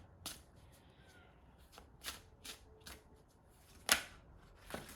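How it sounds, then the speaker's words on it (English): Oracle cards are handled and laid out on a table in a series of soft, quiet slaps and brisk shuffles, with one sharper snap partway through and no speech. "I'm going to put just a few more oracle cards here"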